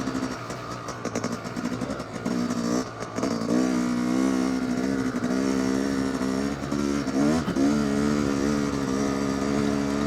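A car drives in second gear, its engine holding a loud, steady hum with slight rises and dips in pitch, heard from inside the vehicle.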